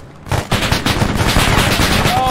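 Loud automatic gunfire in Arma 3, a rapid burst of shots erupting after a brief quiet moment and continuing in dense, overlapping volleys, close and harsh.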